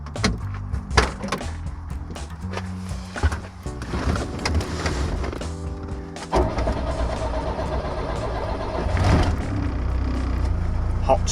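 A car engine hot-starts on a hot day: the starter cranks, the engine catches and revs up, and it settles into a running rumble with clicks and a knock along the way.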